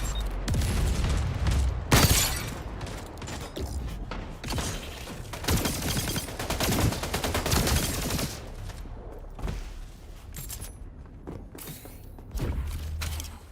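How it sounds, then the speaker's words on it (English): Dense bursts of automatic gunfire and booming shots in a Warzone or Apex shooter game, firing nearly nonstop with heavy thuds and brief lulls, loud and close throughout. "I'm shooting, bro."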